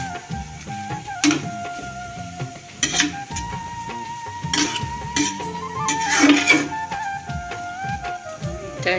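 A spoon scrapes and clatters in a pan of Sylheti banana-plant curry, giving scattered metallic knocks and rattles at close range with a few brighter clinks, and no voices.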